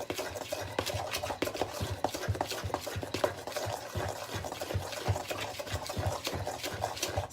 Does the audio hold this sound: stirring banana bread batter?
yes